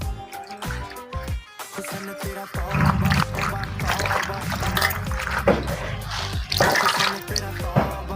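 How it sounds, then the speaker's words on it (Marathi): Foraged wild greens, kunjara leaves, being washed by hand in clean water, with splashing, sloshing and dripping in irregular bursts close by, sometimes louder and sometimes quieter. "रानातून काल आणलेली भाजी स्वच्छ पाण्यानं धुवून घेऊ"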